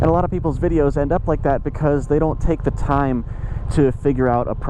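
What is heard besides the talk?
No distinct noise like a dog, phone or traffic.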